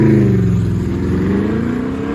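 A 1965 Corvette with side pipes and a 350 cubic inch small block V8, driven on an autocross course, roars loudly and steadily up close. The engine note rises slightly as it accelerates.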